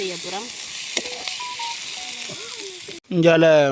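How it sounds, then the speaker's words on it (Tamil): Fish fries in a pan in a village home kitchen, producing a bright hissing sizzle under scattered tonal sounds. Near the end a voice speaks over it after a brief break. "அம்மா வறுத்து கொண்டிருக்கிறா மீன் குழம்பு மீன் பொரியல்"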